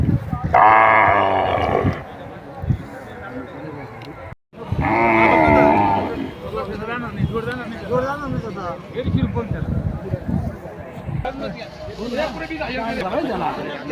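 Loud, drawn-out bull bellows at the Rajur cattle fair, two long calls close by, with people talking around them and farmyard bustle in the background.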